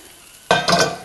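A sudden loud sizzle as chicken pieces drop into a hot casserole dish with onions, the frying hiss continuing steadily afterward.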